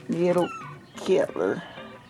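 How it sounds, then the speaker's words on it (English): Small kittens meow in two close, loud calls, one after another, indoors. "we got cats now. We got 3 little kitties now"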